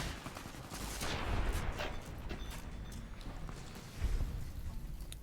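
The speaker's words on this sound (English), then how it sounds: "You gotta love the shotgun." Shotgun fire in Fallout New Vegas, a few faint booming blasts spaced apart in a noisy game scene, heard at low level.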